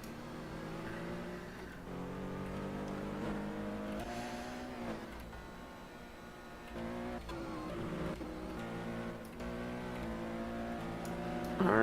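An LMP2 prototype race car, number 64, runs in an endurance race at Road America, its engine note rising and falling through gear changes. The engine is steady and moderately loud throughout, with a sharper rise at the very end.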